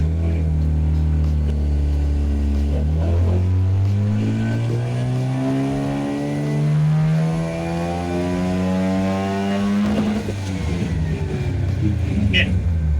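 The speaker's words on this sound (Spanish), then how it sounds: "Vamos a hacer una lanzada en cuarta marcha hasta 6000 revoluciones" A competition engine on a dyno pulls hard in fourth gear up to 6000 rpm, its loud, rough note climbing steadily in pitch over several seconds before cutting off sharply, with vibration noise throughout.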